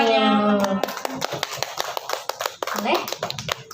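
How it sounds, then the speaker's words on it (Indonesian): Audience applause for a young Jaipongan dancer's performance at a school event in Bandung, with dense rapid clapping from many hands sustained throughout and a lively crowd murmur underneath. "Tepuk tangan terlebih dahulu."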